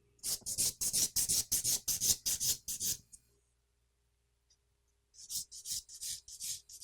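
A nail file rasps against a fingernail in quick, even back-and-forth strokes, close and crisp. The strokes come in a fast run, stop for about two seconds, then start again.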